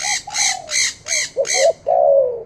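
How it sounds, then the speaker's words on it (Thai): A pet parrot squawks loudly and close by in a string of five harsh, rhythmic calls, then gives one longer drawn-out cry, with no talking. "ร้องดั่นดั่นเลยนะครับนกแก้วครับ"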